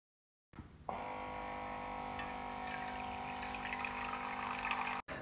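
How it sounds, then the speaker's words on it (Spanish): Tap water pours steadily into a sink for a cat, starting abruptly after a brief quiet moment and running as a constant close rush before cutting off near the end. "Mira, Lolo, tu agüita"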